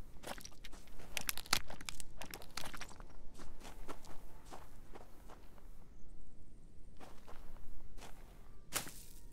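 Footsteps crunch in a steady walking rhythm in the video game The Front, close and fairly quiet, with a short pause midway before the steps resume.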